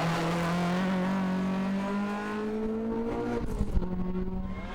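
Ford Escort rally cars cornering on Special Stage 3 of the 2007 Targa New Zealand tarmac rally, with a loud, close engine holding a steady high note that shifts pitch, then rougher blips and revving as the car comes off the corner.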